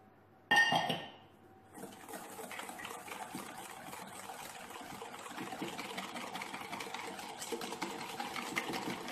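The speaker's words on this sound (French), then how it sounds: "Donc je mélange bien afin de faire fondre le sucre." Sugar being mixed into melted butter in a mixing bowl, heard as a sharp clink at the start and then a steady, rapid scraping and tapping of a utensil against the bowl.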